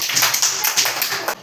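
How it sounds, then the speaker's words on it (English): Students in a fourth-grade classroom give a short burst of clapping, a quick, uneven patter of hand claps close by, ending abruptly after about a second and a half. "Clap for Avantika and Soumya."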